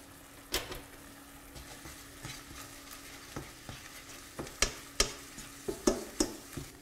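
Butter and flour paste for a courgette gratin cooks on low heat in a pan, a soft continuous sizzle under repeated spoon stirs and clicks that grow louder and more frequent toward the end.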